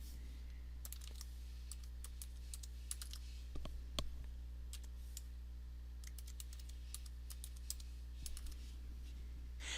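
A password being typed on a computer keyboard while setting up Windows Server 2008, with scattered quiet key clicks in short irregular runs over a steady low electrical hum.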